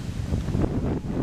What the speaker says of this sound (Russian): Ветер сегодня сильный